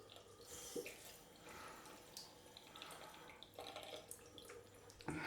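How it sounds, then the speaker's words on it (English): A tap left slightly open in a home bathroom runs a thin stream of water, heard faintly as a steady background hiss and trickle with small splashes throughout. "You may hear some running water in the background"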